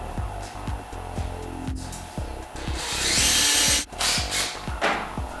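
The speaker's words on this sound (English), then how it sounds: "And drill it nice and square right here in the middle." A power drill bores a hole through the middle of a wooden subwoofer enclosure, its motor whining steadily with repeated grinding and rubbing bursts as the bit cuts, close and fairly loud with no talk.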